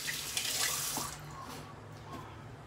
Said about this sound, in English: just rinsing out the soap right here.